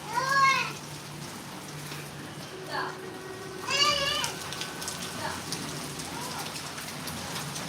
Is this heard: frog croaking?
no